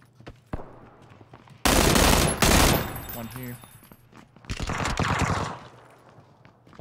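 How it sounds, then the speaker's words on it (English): Automatic gunfire from PUBG, a loud sustained burst of rapid shots followed by a second heavy volley after a pause, with players talking briefly in between. "Did you hear gunshots behind us?"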